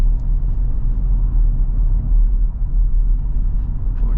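A 2024 Toyota Tacoma SR5 pickup driving on the road, heard from inside as a steady low rumble of engine and tire noise, moderately loud and even throughout with no clear talking.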